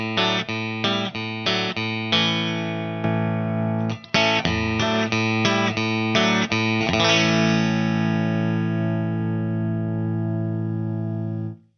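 Clean electric guitar through a Crazy Tube Circuits Bulb compressor pedal: a run of quick, even strummed chords, a brief pause, more rhythmic strums, then a final chord left ringing and fading, loud and close with no talk.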